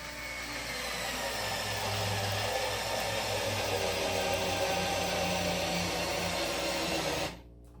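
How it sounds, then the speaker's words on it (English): A Ryobi 4V USB lithium electric screwdriver drives a 3-inch screw, its small motor whirring in a steady, busy drone with a gritty grinding edge for about seven seconds before cutting off abruptly. "Let's grab another 3-inch long screw."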